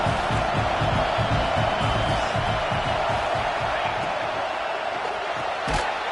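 A college football stadium crowd at a Florida versus Texas game roars as a steady, dense wall of noise, with a commentator talking over it throughout.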